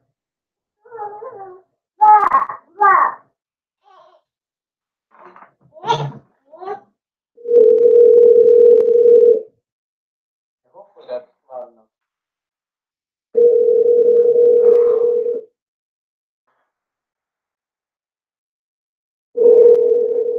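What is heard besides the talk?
telephone call ringing tone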